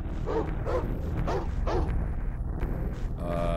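Dogs bark in a burst of four or five sharp, close yips and barks in the PC horror game Alone in the Dark: The New Nightmare, over a low dark ambient drone, followed by quieter game sounds.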